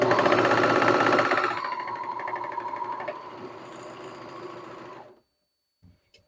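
A serger sewing machine runs loud and steady in a rapid mechanical whir, easing slightly partway through and then stopping, leaving near silence with a couple of faint ticks.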